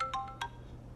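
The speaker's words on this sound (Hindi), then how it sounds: "फलक की सास कॉल कर रही है" A mobile phone ringtone in a domestic TV drama scene: short bright electronic chirps repeating in quick bursts over a low steady hum, moderately loud, with no voices.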